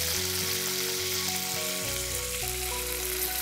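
Onions sizzle steadily in hot oil with mint and coriander in a pan for chicken, a dense close frying hiss under a sustained tonal background, no talk.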